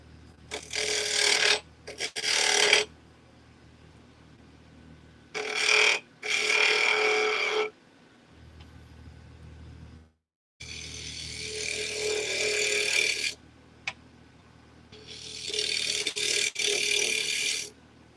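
A bowl gouge held like a scraper against spinning wood on a lathe gives off bursts of harsh, hissing scraping, several separate passes of a second or more with quiet gaps and low motor hum between them.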